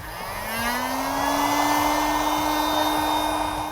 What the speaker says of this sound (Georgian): ისევ ფენით გავაშრობთ.